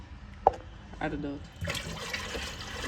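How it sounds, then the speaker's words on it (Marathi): A bucket of water is poured into an air cooler under repair, a short knock followed by a rushing, splashing pour, with voices heard over it. "तर हे बघा पाणी ओतायचे आता."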